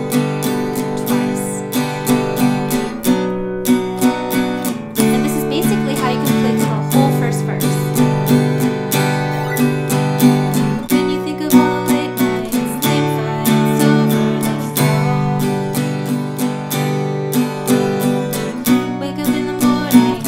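Guitar strums the chords of a song in a steady down-down-up-down-up pattern, a full, even rhythm ringing on alone for about twenty seconds.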